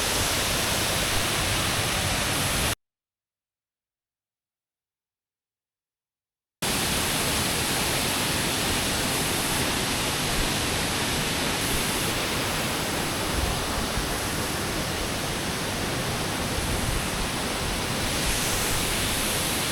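Chet Khot waterfall in Saraburi, Thailand, gives a steady, full rushing roar of falling water, constant and close, briefly cut to silence before resuming unchanged.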